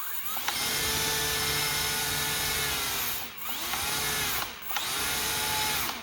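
Qidi 580 electric RC plane motor run on a throttle test, a close, loud, high whirring whine that holds steady, dips briefly twice as the throttle eases back, then spins up again.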